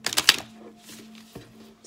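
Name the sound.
shuffling tarot cards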